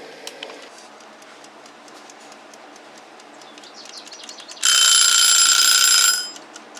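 A kitchen timer alarm goes off outdoors beside a propane burner while radishes are being pickled. A loud, steady electronic beeping sounds near the end and holds for about a second and a half before stopping, over faint bird chirps.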